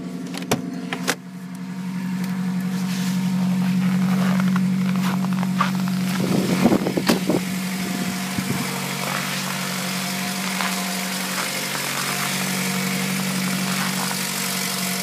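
A 2003 Ford Focus ZX5 idles after a cold start on a freezing morning: a steady low engine hum with a constant drone, and a brief cluster of clicks and rattles partway through, close by with no talking.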